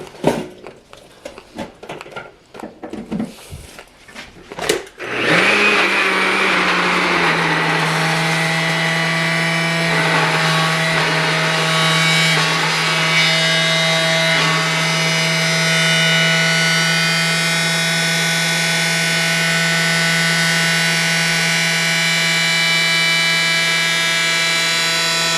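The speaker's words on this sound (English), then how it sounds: "now let's blend" Blender blending a protein shake: a few seconds of handling clatter and knocks, then the motor spins up into a loud, steady whine with a sustained hum that runs on unchanged for about twenty seconds.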